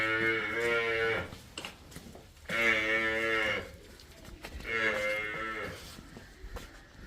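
Three long, deep moos from a buffalo on a dairy farm, each about a second long and fairly close, separated by short pauses with faint background noise.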